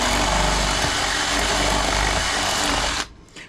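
A power drill whirs steadily at high speed for about three seconds while drilling into the lock of a bulk vending machine, then abruptly winds down and stops.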